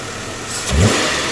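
A 2003 Chevrolet Impala 3.8L V6, flagged for catalyst efficiency and secondary ignition faults, gets its throttle snapped once, a short rising rev swelling from idle and easing back down, heard close up.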